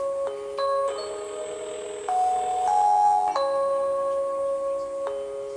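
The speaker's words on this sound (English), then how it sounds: "Oh, somebody getting a phone call." A phone rings with an incoming call, repeating electronic chime tones sounding steadily and moderately loud for several seconds, with no talking over it.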